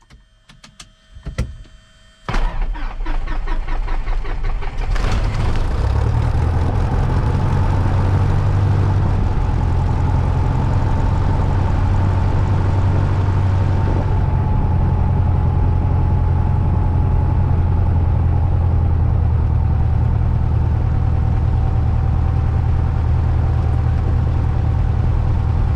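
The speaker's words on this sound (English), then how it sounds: "And we can go ahead and start the engine." Light aircraft propeller engine cranking with clicks and sputters, then catching and settling into a loud, steady close idle drone that holds for the rest of the time, with no talk.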